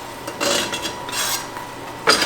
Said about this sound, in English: So, to get this out, I'm going to use a spatula